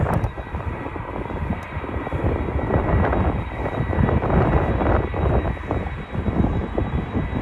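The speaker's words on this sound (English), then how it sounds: "And there it goes, takeoff." An airliner takes off at Schiphol airport, its engines roaring loud and steady with a broad rumble that swells and holds throughout, some wind buffeting, no speech.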